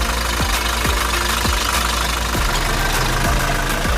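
Diesel car engine idling with the oil filler cap removed, a steady mechanical drone marked by regular knocking pulses about twice a second, loud and close with no talking.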